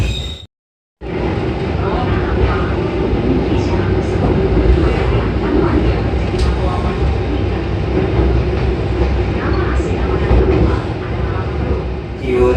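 The KA Pangrango passenger train on the Bogor–Sukabumi line rumbles steadily from inside the carriage, a loud continuous roar with faint rail clatter after a brief dropout at the start.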